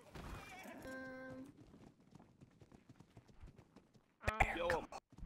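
Horse hooves clip-clopping in a western roleplay video game, with a horse whinnying near the start and again near the end, while a person talks over it.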